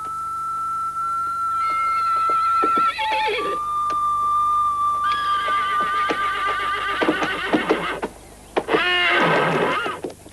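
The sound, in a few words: horses neighing at a market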